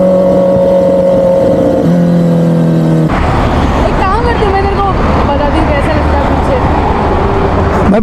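A Kawasaki ZX-10R superbike engine runs loudly close by, starting with a steady harmonic drone that shifts pitch, then turning rougher as the bike moves off, while people talk over it.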